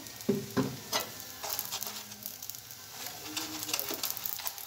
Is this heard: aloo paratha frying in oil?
yes